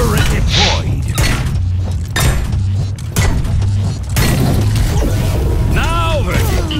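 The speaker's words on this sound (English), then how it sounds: "Turret deployed." A Torbjorn turret deploys in Overwatch with mechanical clanks and thuds among sharp bursts of in-game gunfire, and a voice speaks over the action.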